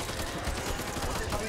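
Rapid gunfire bursts from the zombie shooter Back 4 Blood in veteran mode crackle densely throughout a short moment, mixed with game sounds and some voice chatter.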